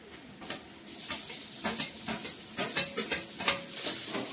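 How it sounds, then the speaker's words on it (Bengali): Carrots fry in a pan over a raised gas flame, a light sizzle running under quick, irregular scrapes and clinks of a spatula stirring against the metal, close and fairly loud. "গাজরটাকে ভালো করে ভাজবো"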